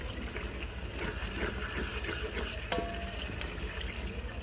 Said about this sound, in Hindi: और इसको अच्छी तरह से भून लेंगे।